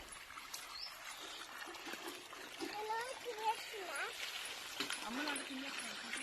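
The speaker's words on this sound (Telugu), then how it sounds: "నీళ్ళు చూడండి ఎంత చిన్నగా వస్తున్నాయి" A thin trickle of irrigation water splashes and dribbles into a field on a farm, a faint, uneven flow heard close by under people talking.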